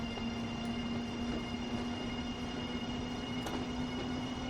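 High-speed trains in the video game Transport Fever: a steady rumble with a sustained tonal hum and faint metallic squeals, running continuously without voices.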